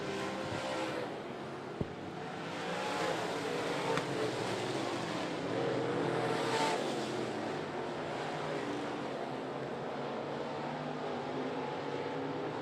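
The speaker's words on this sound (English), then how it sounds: "Ridings takes a peek underneath the 19 of Lindsay, but Lindsay slams the door going down the back straightaway" Modified race cars roar around the 411 Motor Speedway, a continuous loud engine drone with passing swells, no distinct voices over the steady racing noise.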